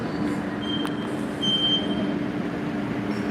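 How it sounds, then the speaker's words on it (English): An MBTA Green Line streetcar rolls past closely, a steady low rumble of wheels on rail with a faint high squeal from the wheels, continuous and fairly loud throughout. "And now there's another train right behind it."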